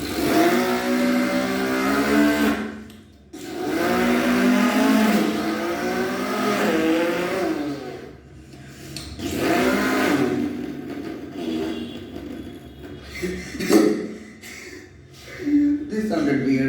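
A voice imitates an Audi RS5 car engine, making rising and falling revving sweeps in several bursts with short gaps, loud and close.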